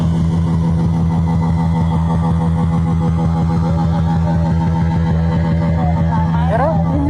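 A motorcycle engine running with a steady, rapid pulsing throb that stays even and close throughout, with a brief rising sweep near the end.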